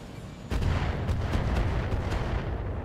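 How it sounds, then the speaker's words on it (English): Heavy in-game mortar fire in BattleTech, a sudden low boom followed by sustained rumbling impacts and several sharp blasts, loud and close with no voices. "there's the mortar"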